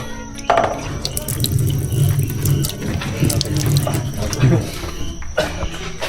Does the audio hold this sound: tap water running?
yes